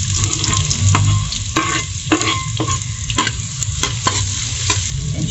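Garlic and onion sizzle steadily in a hot pan, broken by repeated scraping stirs of a utensil as the chicken curry base gets started, with no talking over the frying.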